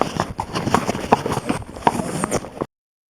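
Horse hooves clip-clop at a slow walk along a rainforest trail on a horseback tour, a steady uneven rhythm of close, moderately loud hoofbeats with no talk.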